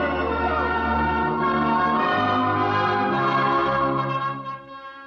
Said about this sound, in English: The bells of the Baptist, the Congregationalist, and the Roman Catholic Church were ringing.